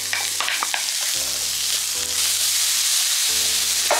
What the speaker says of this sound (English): First of all, we're going to put the leeks in